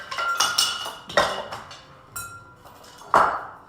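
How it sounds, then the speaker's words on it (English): Cherries and cherry juice being combined in a bowl produce a few sharp clinks and clatters of utensils against dishware, spaced irregularly, fairly close and moderately loud with no talk. "you're gonna combine your cherries in a bowl"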